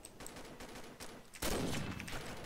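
Gunfire in the shooter game Combat Arms, a sudden loud burst of rapid shots that starts partway through after a quieter stretch of distant gunfire, with no talking.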